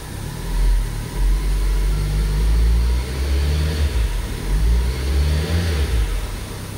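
A Ford Transit Connect engine cranks and catches after key programming, then runs with a steady loud low-pitched drone and slight rises in revs, close up with no talking.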